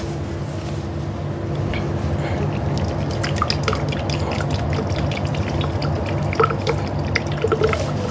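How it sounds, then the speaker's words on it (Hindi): Coconut water trickling slowly out of a sipper bottle, a steady soft liquid dribble with small drips and splashes over a low background hum, gradually getting a bit busier toward the end. "पानी जो निकल रहा है धीरे धीरे"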